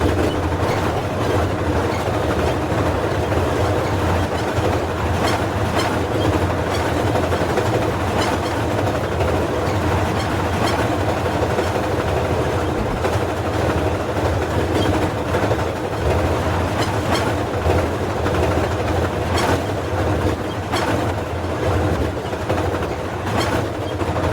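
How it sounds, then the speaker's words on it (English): A train rushes past Middleborough Station at 60 to 70 mph, a steady loud roar with rhythmic rail clatter and wheel noise throughout, close by and continuous. "the train races through Middleborough Station"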